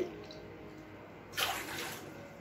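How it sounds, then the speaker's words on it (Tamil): Water splashes into a pot in a home kitchen for dry ginger coffee, a sudden close pour that starts about halfway through and then continues as a softer trickle. "ஒரு ரெண்டரை டம்ளருக்கு தண்ணி சேர்த்துக்கலாம்"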